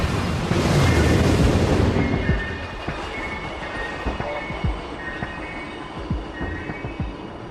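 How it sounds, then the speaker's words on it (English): A maglev train rushes past with a loud roaring whoosh, then fades into rolling rumble with faint rhythmic clicks from the track. "a train that could travel from London to Paris in less than an hour"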